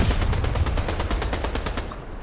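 Rapid automatic gunfire in the video game Fortnite, a loud close burst of evenly spaced shots firing continuously for about two seconds before cutting off, with no voices.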